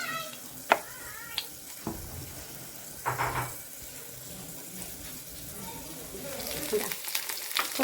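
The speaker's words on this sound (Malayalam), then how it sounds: "ചീനച്ചട്ടി നല്ല ചൂടായി വരുമ്പോഴത്തേന് എണ്ണ ഒഴിച്ച് കടുകും വറുത്ത് അതിൻ്റെ കൂടെ കുറച്ച് ചുവന്നുള്ളിയും" Mustard seeds and shallots frying in hot oil in a kadai for a raw-mango curry, a steady moderate sizzle with a few sharp pops and spoon clinks, rising toward the end, with no voices.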